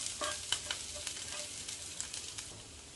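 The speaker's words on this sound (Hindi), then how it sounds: "ग्रीन चिली इन सबको बहुत पकाना नहीं है, सिर्फ हल्का सा तेल में सॉटे करना है" Green chilies sautéing lightly in a little oil in a hot pan, a bright crackling sizzle with scattered pops and stirring scrapes, close and steady, no voices.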